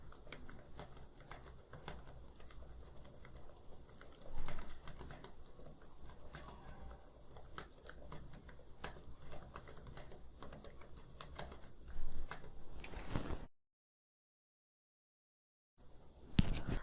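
Rapid, steady keystrokes on a computer keyboard during a typing test, a dense run of close clicks with a couple of louder bursts, then a sudden cut to silence before a few final taps.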